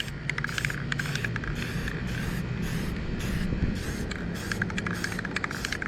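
A spray gun lays clear coat paint onto a car in a steady hissing spray, pulsing in regular short bursts as the gun sweeps back and forth over a low background hum, with no talking.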